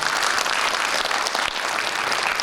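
An audience at a political meeting, a lawmaker's legislative report session, applauds with dense, sustained clapping filling the room at even loudness without a break.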